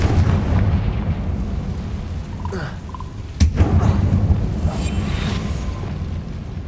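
A Confringo fire spell explodes in the video game Hogwarts Legacy: one sharp blast at mid-clip that sits over steady game music and ambience, with a few faint tonal chimes just before it.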